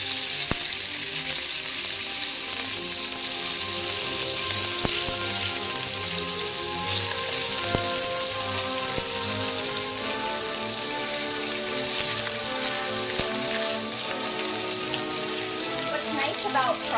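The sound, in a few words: pork chunks frying in oil in a pan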